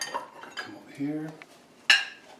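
Bowl and spoon being moved across a table in a home kitchen, giving a few close ceramic knocks, a brief scrape and a bright metallic clink near the end, with a faint voice behind.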